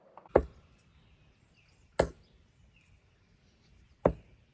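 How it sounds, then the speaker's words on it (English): Three heavy 25-gram CUESOUL darts strike a dartboard one at a time, each a sharp, close thud with a short ringing tail, spaced about two seconds apart in a quiet room. "Just listen to these things hit the dartboard."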